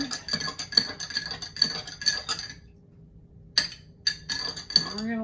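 Apple cider vinegar is stirred into hemp milk with a spoon, giving quick rhythmic clinks and taps against the container in two bursts separated by a short pause.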